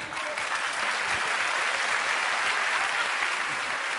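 A large television-final audience claps loudly and steadily for the whole stretch, a dense, sustained wash of applause with no pauses and no talk on top.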